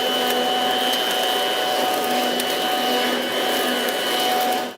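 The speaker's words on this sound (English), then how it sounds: "You can poke it under benches, under staircases, and suck all of those leaves out successfully." A garden leaf vacuum with a metal impeller runs loud and steady nearby, its motor whine holding an even pitch while it sucks up and shreds leaves, then cuts off abruptly at the end.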